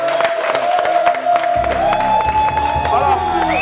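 A studio audience on a TV show applauds and cheers for a singer, a brief burst of clapping and whoops under a sustained musical tone, with a presenter's voice over it.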